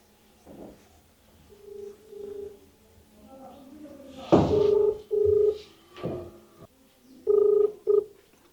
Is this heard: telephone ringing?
yes